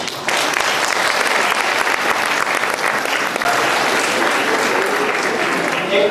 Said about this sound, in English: I request you all to raise your hands and give them a big applause.